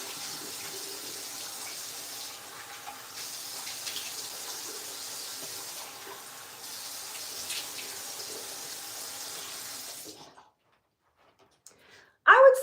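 A tap runs steadily for about ten seconds while a face is rinsed clean of Korean skincare cleanser, a close, continuous splashing hiss that stops abruptly and leaves near silence before a short louder sound at the end.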